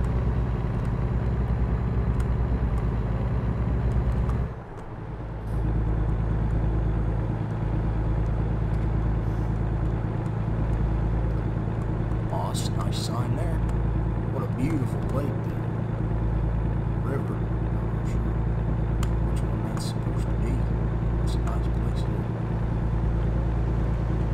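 A heavy truck engine drones steadily under load in a driving simulator game, a continuous low rumble with a brief dip partway through and faint clicks above it.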